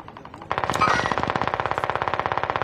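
Automatic AK rifle fire in a battle royale video game, one loud, close, sustained burst of rapid, evenly spaced shots with a metallic ring, beginning abruptly after a short quiet moment.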